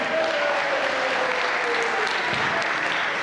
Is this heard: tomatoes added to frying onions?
no